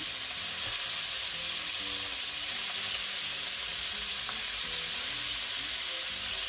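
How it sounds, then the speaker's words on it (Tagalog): Pork, a mix of fatty cuts and bony pieces, frying and browning for adobo in a pan, a steady loud crackling sizzle that carries on unbroken throughout, with no talking. "Hintayin lang natin mag-brown yung pork."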